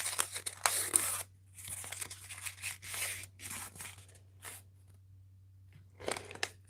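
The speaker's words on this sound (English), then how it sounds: "This is brand new Romex. This has paper." The paper wrapping inside new Romex electrical cable being pulled and torn, close, quiet ripping and crinkling bursts in a few uneven bouts with short pauses, alone with no speech.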